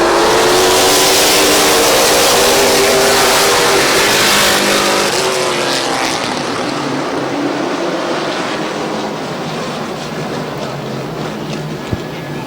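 Late model stock cars roaring off a green-flag start at Midvale Speedway, a loud dense wall of engine noise from the pack that swells past and then fades as the field pulls away.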